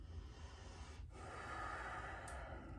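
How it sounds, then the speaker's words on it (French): Slow, deep breaths drawn in and let out calmly, soft and close, with no talking. "Je respire toujours en profondeur, calmement."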